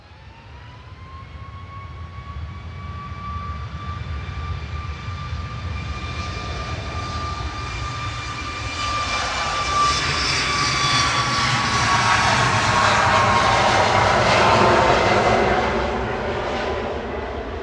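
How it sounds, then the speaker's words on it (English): SunExpress Boeing 737 MAX 8 departing Manchester Airport, a steady high engine whine over a broad roar that swells louder and nearer mid-clip, then begins to ease, with no talking. "Duo of Sun Expresses about to depart."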